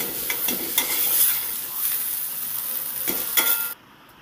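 Beetroot and carrot curry being stirred in a pan with a little oil, a steady soft sizzle broken by repeated scraping strokes of the spoon, then cutting off abruptly near the end.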